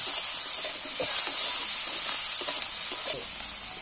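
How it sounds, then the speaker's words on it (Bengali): Tomato and capsicum frying in a pan while being stirred: a continuous close sizzle and hiss with intermittent scraping strokes of a spatula against the pan. "এবার টমেটো আর ক্যাপসিকাম লঙ্কা আমি এর মধ্যে তুলে দিচ্ছি, দুটোই একই সাথে দিয়ে দিচ্ছি। এবার আমি একটু নাড়াচাড়া করবো।"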